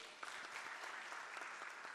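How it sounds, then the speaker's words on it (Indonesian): An audience at a patient safety talk applauds with a steady, even wash of many hands clapping, faint and distant throughout. "Tepuk tangan Bapak Ibu."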